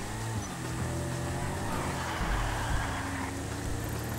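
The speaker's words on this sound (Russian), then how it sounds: "А эта тачка тоже себя неплохо так чувствует на дожде." A car drives through the rain in GTA 5, with a continuous engine drone and broad hissing wash of tires on wet road, steady and moderately loud with no voices.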